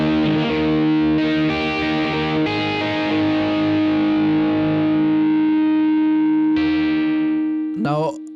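Electric guitar at full volume through a Boss GT-100, driven chords ringing long and sustained, ending with a brief scrape.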